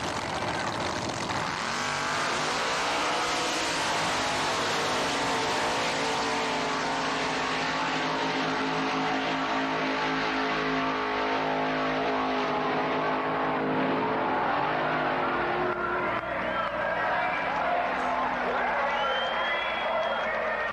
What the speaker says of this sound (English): These cars are a good blend of serious and show-off race cars.